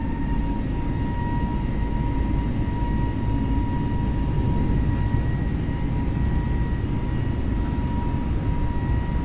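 Airbus A320 takeoff roll in Microsoft Flight Simulator 2020, a continuous loud engine and runway rumble with a steady whine layered on top, no speech.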